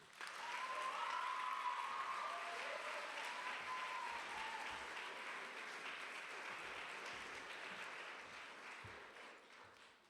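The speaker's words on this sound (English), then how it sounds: "please welcome to the stage with a nice round of applause, Emma Herzog." Sustained audience applause in a school chapel, a steady dense clapping from a large crowd that fills the room and slowly tapers toward the end.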